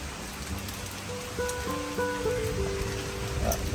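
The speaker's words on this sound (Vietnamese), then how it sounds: "mưa tới rồi nhìn tư ơi" Rain falls steadily in a rural Vietnamese village, a constant patter on surfaces, with soft tonal sounds briefly rising in the middle.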